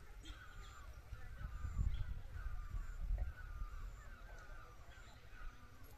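Faint bird calls repeat across a quiet hill valley of farmland in a Darjeeling village, with distant caw-like notes drifting over a low outdoor rumble and no clear talking.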